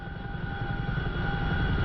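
Boeing CH-47F Chinook twin-rotor transport helicopter in flight in the DCS combat simulator: a loud, steady rhythmic rotor thump under a constant turbine whine, close and unbroken, no talk.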